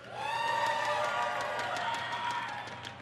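A big BlizzCon audience cheers for a Hearthstone card, a loud, continuous wash of shouting, whistles and clapping in a large hall that swells early and slowly eases.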